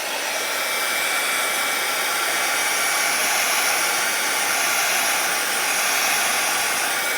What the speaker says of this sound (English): So I'll just give it a shot with my heat gun here.